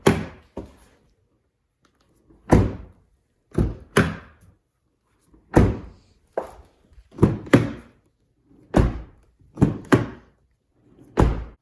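A Subaru STI car door, fitted with Kilmat sound deadening, slams shut and opens again several times, with sharp, solid thunks close by and quiet gaps between them.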